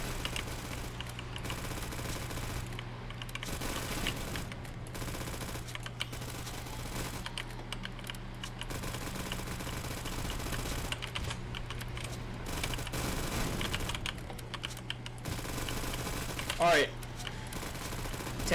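Sustained CZ-75 pistol fire held down in the Zombie Uprising video game, a steady stream of rapid clicking shots across the whole stretch, with people talking over it.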